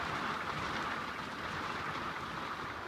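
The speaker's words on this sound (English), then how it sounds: "This is the sight and sound of rain in a motorhome." Steady, soft patter of rain drumming on the roof of a motorhome, heard from inside as an even, unbroken hiss with no voices.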